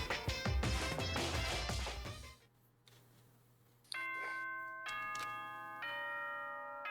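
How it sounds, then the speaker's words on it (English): A doorbell chime in the video game Danganronpa 2 rings in clear, separate bell tones after loud music cuts out, each note ringing on and overlapping the next over a quiet hum. "Ding dong bing bong."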